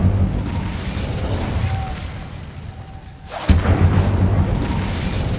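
In the video game Hogwarts Legacy, an Incendio fire spell is cast: after a low rumbling lull, a sudden loud fiery burst erupts and roars on steadily.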